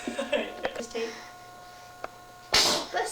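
A single sharp, loud sneeze bursts out near the end, after faint indistinct talking and a few small knocks in a room.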